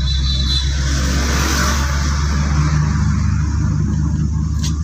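A car's engine hums steadily and gradually picks up speed as a learner drives through narrow lanes, a close, continuous low drone inside the cabin.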